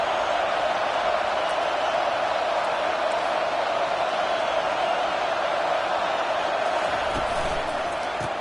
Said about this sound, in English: This offense trying to quieten the crowd on first and goal